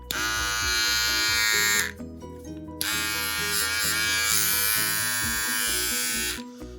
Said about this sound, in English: So this is actually running, but this is too loud